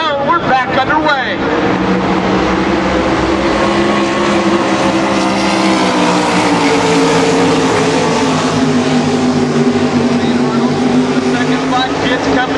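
Stock cars thunder around an oval track after a restart, loud layered engine roar rising as the field accelerates, with a commentator talking over the noise throughout.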